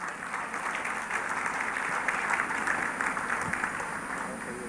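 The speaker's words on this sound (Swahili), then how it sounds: "Pigeni makofi kidogo anapoingia." An audience at a funeral service in Meru applauds as a guest enters, a continuous dense clapping that holds steady and fairly loud throughout.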